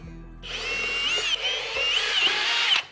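A power drill whines steadily into pine for a couple of seconds, its pitch dipping briefly mid-run as it bites, then cutting off abruptly.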